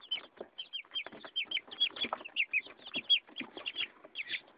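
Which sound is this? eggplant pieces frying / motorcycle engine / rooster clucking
rooster clucking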